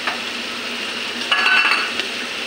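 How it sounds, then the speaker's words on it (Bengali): Paneer being stirred into masala in a pan, a short scraping and clinking of a utensil against the pan over a faint steady sizzle. "পনির সঙ্গে মশলাটা ভালো করে মিশিয়ে"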